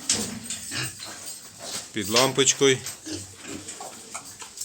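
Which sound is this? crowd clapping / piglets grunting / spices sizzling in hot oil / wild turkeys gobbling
piglets grunting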